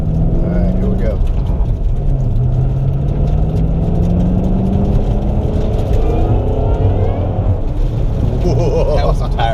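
A new Ford Shelby GT500 accelerates hard on cold pavement with its tires spinning, the loud engine roar rising steadily and continuously throughout, with a voice talking faintly in the background.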